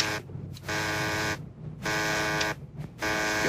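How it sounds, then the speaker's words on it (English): A harsh electric buzzer sounds in four long bursts separated by short gaps, loud and close. "Your buzzer's ringing"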